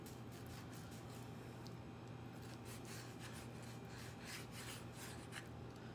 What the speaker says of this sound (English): So I'm just slicing it against the grain